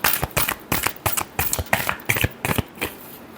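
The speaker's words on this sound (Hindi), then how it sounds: "Last shuffle." Tarot cards riffle and snap in close, rapid, rhythmic bursts, roughly a dozen crisp slaps across a few seconds as the deck is shuffled, with no voices.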